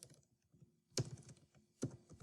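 Typing on a computer keyboard in a quiet room: faint scattered key clicks with two sharper clusters of louder taps close to the listener.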